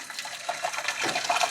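Water gushing steadily from a tap into a large cooking pot for boiling pasta, a continuous bright splashing stream close by.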